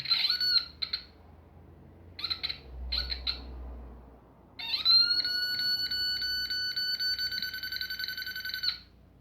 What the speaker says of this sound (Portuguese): o aparelho comece a bipar bem mais rápido agora